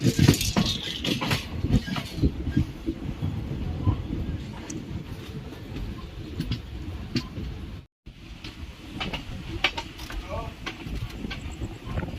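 Guruvayur Express passenger train pulling into Nagercoil Junction at night, a steady rumbling rattle of carriages with hiss and wind buffeting, continuous and fairly close, with a brief dropout near the end.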